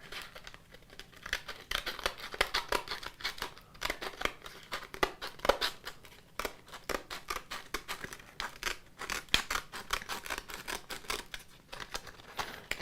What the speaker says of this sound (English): Do this with scissors you don't care about.